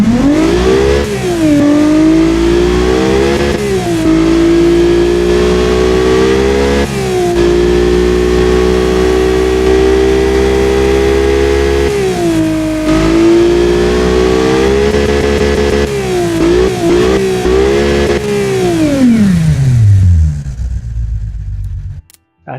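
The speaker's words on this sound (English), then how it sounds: "Let's fire it up. Now, as you can see, the engine idle is a little bit rough" Simulated Honda C30A V6 engine from the NSX in the Automation game, naturally aspirated with headers, running loud and steady with a slightly rough idle, rising and falling revs through several blips, then winding down to silence.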